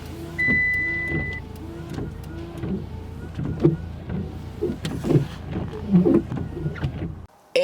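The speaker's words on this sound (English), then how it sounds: "if you just click the wiper arm, it'll spray and it'll make sure it cleans off your entire windshield." Windshield washer and wipers on a Mitsubishi Lancer used as a winter car: a short spray hiss, then a rhythmic series of motor whirs and blade thumps as the arms sweep back and forth, close up inside the cabin, with no talking.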